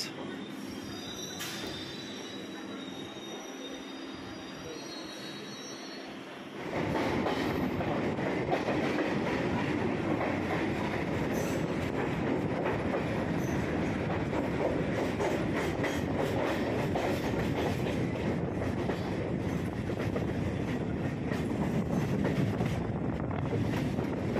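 A Kolkata Circular Railway train runs with a steady, loud rumble of wheels on rails and wind buffeting. It is quieter and sparser for the first few seconds, then surges into a continuous roar that lasts to the end.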